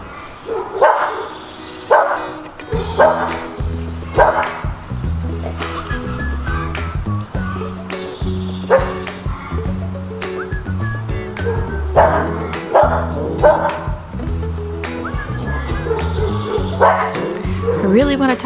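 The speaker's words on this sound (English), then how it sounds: "between the neighbor's dog barking" A neighbour's dog barks and yips in repeated short bursts, fairly close, over a steady musical background that plays throughout.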